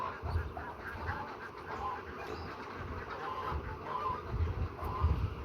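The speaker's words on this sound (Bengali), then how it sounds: "আমার টার্কি মুরগা।" Pet turkey and other poultry cluck softly and intermittently against a low, steady background murmur.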